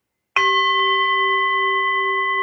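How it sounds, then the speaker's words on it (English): A single bell is struck once close by, giving a bright sudden attack and then a long, steady, ringing sustain that barely fades, with no talking. "Hey, ring the bell."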